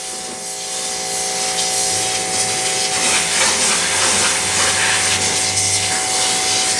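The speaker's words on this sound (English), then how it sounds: "All right, let's get the pressure washer." A pressure washer sprays a car wheel on an old, abandoned Lexus, giving a steady loud hiss of water that continues for several seconds with no talking.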